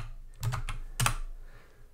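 Fingers tap a computer keyboard, entering a terminal command during an SSH login, in two short close bursts of crisp keystrokes with no voice.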